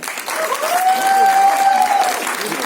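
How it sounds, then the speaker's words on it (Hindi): At a film trailer launch event, an audience breaks into applause, a continuous wash of clapping rising over a couple of seconds, with a sustained tone running underneath. "एक बार जोरदार तालियां हो जाएं."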